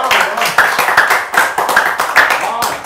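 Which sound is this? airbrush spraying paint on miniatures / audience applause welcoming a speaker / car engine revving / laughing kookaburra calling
audience applause welcoming a speaker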